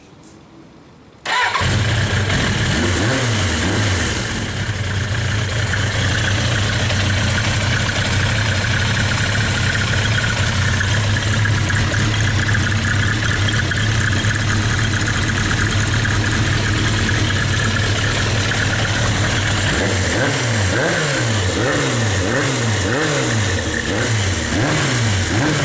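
A 1986 Suzuki GSX-R 750 motorcycle with a hot-built engine, Yoshimura cams, 1100 carburettors and Dynatec ignition fires up and settles into a loud, lumpy idle, then blips through several sharp revs near the end, close and continuous.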